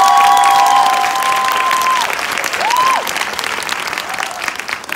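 An audience at a network-company seminar in a Hyatt hotel applauds CEO Cho Min-ho. The clapping is loud and sustained and fills the room for about five seconds, with a few thin whistling tones running over it.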